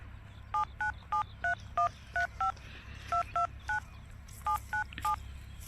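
A quick series of telephone keypad tones, about fifteen short beeps in small bursts, clear and close with no talking.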